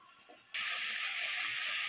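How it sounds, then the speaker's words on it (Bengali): Masala spice paste for a Bengali egg curry with cauliflower hits hot oil and bursts into loud, steady sizzling that starts suddenly and holds close by without any talk. "খুব ভালোভাবে মশলাটা কষিয়ে নেব।"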